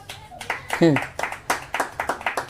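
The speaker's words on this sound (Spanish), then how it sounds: "Dale un aplauso al Señor, que es bueno." A church congregation claps in a steady rhythm, sharp hand claps repeating about twice a second after a brief voice at the start.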